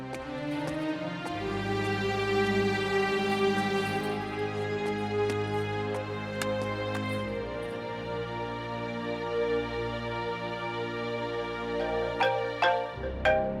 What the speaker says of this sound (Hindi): उसके नंबर पे फोन करके देख तो कहाँ गई है